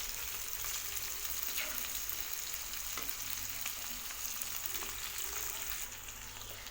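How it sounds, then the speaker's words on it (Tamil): Chicken pieces fry steadily in hot oil over a medium flame, giving a continuous, even sizzle with faint crackles and occasional soft stirring clicks, no voices. "எல்லா பக்கமும் சிக்கன் நல்லா வேகிற மாதிரி நல்லா திருப்பி திருப்பி போட்டு ஃப்ரை பண்ணி எடுத்துக்கலாங்க"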